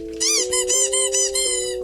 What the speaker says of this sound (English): It's dueling squeaky toys.